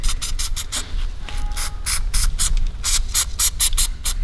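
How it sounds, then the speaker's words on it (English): Protective spray on the battery terminal of a Dodge Grand Caravan, applied in a rapid series of short close hissing bursts with brief gaps between them. "So you just need a little bit of this spray"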